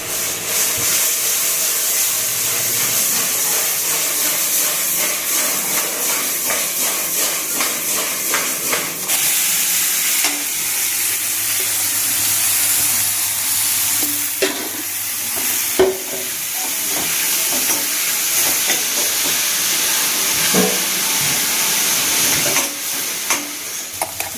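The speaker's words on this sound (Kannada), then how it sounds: "ಇದು ಹಿಂಗೆ ಫ್ರೈ ಆಗಿಬಿಟ್ರೆ ಇನ್ನು ಎಣ್ಣೆಣ್ಣೆ ಥರ ಹಿಂಗೆ ಬಿಟ್ಟರೆ ಸಕ್ಕಾಗಿ ಬರುತ್ತೆ ಟೇಸ್ಟು" Mushrooms fry in oil in a pan with a loud, continuous sizzle and hiss, broken by occasional stirring scrapes and clinks.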